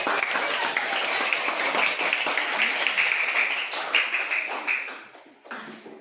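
A room of people claps for children at a school event, a dense steady patter of close applause that tapers off near the end.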